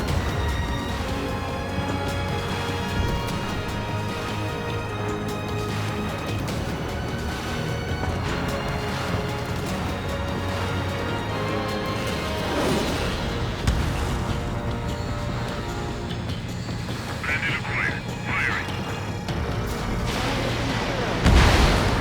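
Missile launch and explosion effects from the Ace Combat 7 jet combat game, heard as a steady loud roar of booms and bursts under a dense music-like bed, with a sharper burst near the end.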